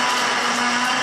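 A mixer grinder grinding roasted peanuts with chili into North Karnataka-style peanut chutney powder, a loud, steady, close motor whir with no break.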